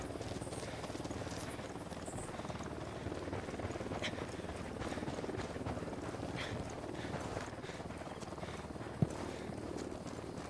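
A helicopter approaching in Ghost Recon, a steady rotor drone and rushing wind noise holding at moderate level throughout, fairly distant and unaccompanied by voices.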